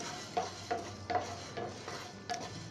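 Whole spices such as cumin, pepper and fenugreek dry-roast in a pan for sambar powder, a spoon scraping through them in regular soft strokes roughly every half second, quiet and close with no talking.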